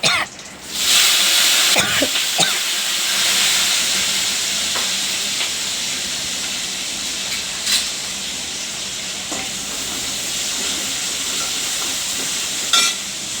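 Onions, green chillies and spices frying in a pan over a village cooking fire, giving a steady close sizzle and hiss with a few sharp crackles and clatters throughout.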